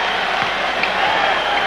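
Arena crowd at a 1982 Philadelphia Sixers versus Los Angeles Lakers finals basketball game roaring and applauding, a loud continuous wash of noise with scattered cheers.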